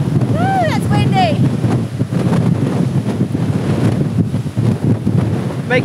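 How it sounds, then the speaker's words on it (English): Strong wind blasting across the microphone beside a sea cave, loud buffeting gusts with rushing air and possible surf beneath, while people briefly shout and call out over it. "Woo, that's windy!"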